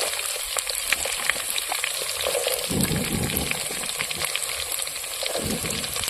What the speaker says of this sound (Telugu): నూనె బాగా కాగిన తర్వాత కరివేపాకు అయితే వేసుకుందాం ఇప్పుడు కరేపాకు వేసుకుందాం ఉల్లిగడ్డలు వేసుకుందాం